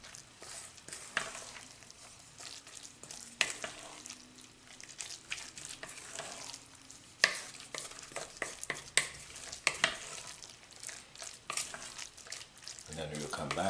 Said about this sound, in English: Just fold it into the mixture.